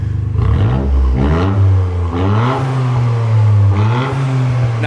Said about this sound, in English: make sure that the valves work, hear it